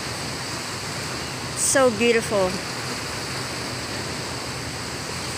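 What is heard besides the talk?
ocean waves on a Philippine shore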